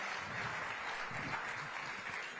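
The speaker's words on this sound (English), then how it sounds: "big round of applause" A business event audience claps steadily to welcome a speaker to the stage, the applause dense and continuous but quiet, as if picked up from a distance.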